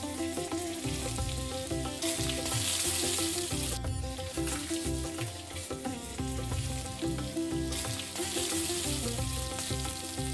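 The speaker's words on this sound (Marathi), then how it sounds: "अशा पद्धतीने बॅटर व्यवस्थित रिंग मध्ये टाकून झालं की दोन्ही साइडने शॅलो फ्राय करून घ्यायचे आहे।" Batter-coated onion rings shallow fry in a pan, giving a dense, unbroken crackling sizzle at close range, with music playing faintly underneath.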